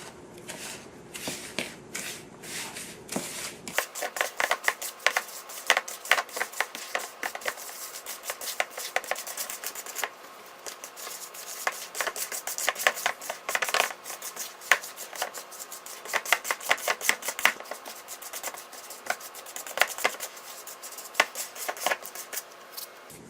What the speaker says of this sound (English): place our melted butter in and mix that together as well. It's best to mix this together with your clean hands.